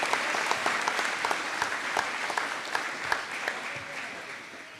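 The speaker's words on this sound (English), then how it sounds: "round of applause for those 5, please" Steady applause from a large gathering at a high school's final assembly, with many hands clapping densely and continuously under faint voices as the sound gradually tails off.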